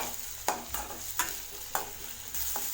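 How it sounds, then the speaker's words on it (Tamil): Tomatoes with a little salt sautéing in a pan for a country chicken fry, a soft steady sizzle marked by four evenly spaced stirring scrapes. "தக்காளி நல்லா வதக்கி விட்டுக்கலாம்."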